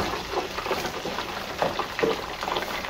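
White perch pieces dropped into hot oil set off a busy, crackling sizzle of frying with scattered pops, close and moderately loud, with no one speaking.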